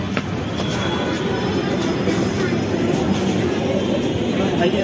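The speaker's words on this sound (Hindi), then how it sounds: "ये ट्रेन जा रही है बरेली को" A train rolls past bound for Bareilly, a dense continuous roar of wheels and rumble heard up close at steady loudness, with faint squealing traces and no clear talk.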